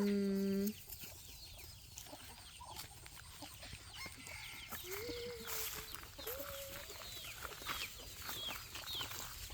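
Chickens cluck on a farm in a steady, fairly close chorus of short calls with scattered peeps, after a brief harmonic call at the start, and the noise continues throughout.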